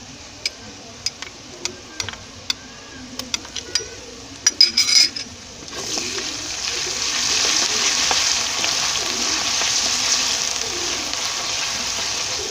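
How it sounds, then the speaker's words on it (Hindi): Ground ginger-garlic paste sizzling in a pan of toasted dry spices for aloo bhujia, a few spoon clinks at first, then a steady loud frying hiss up close with no talking. "अदरक लहसुन की भी भुनाई कर लेते हैं।"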